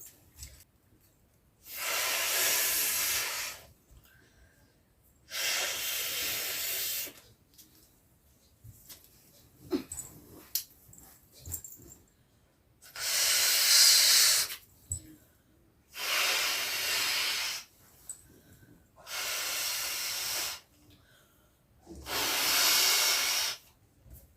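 A big happy birthday balloon of soft material is inflated in seven long, steady hissing blasts of air, each about two seconds, separated by short quiet pauses.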